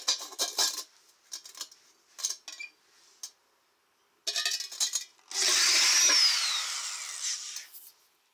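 A step bit drills holes in the thin steel of a charcoal grill being made into a forge, with short metallic bursts of cutting followed by a longer, louder grinding screech up close, with no talking.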